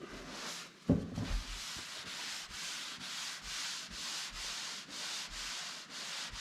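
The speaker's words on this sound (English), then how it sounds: "look away from the panel, and run your hand across it" A hand with a prep towel rubs back and forth across a car body panel during bodywork, making a steady, rhythmic swishing sound in regular strokes after a brief knock at the start.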